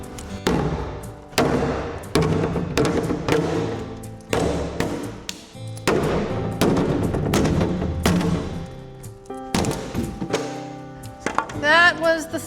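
Thin backing panel being torn and broken out of a gun cabinet, a series of loud irregular cracks, thuds and splintering knocks close by.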